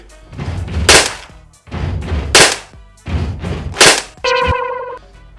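An E&C 603s3 MK18 MOD1 electric BB gun fires in three short bursts of rapid motor-driven clatter, each ending in a sharp crack, followed by a buzzing mechanical whir.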